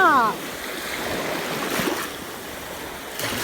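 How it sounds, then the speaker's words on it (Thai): Waves wash steadily on a southern Thai beach, a soft continuous surf hiss with a few swells rising and falling, fairly faint, with a brief voice at the very start. "มันคือทะเลที่อุดมสมบูรณ์มากภาคใต้"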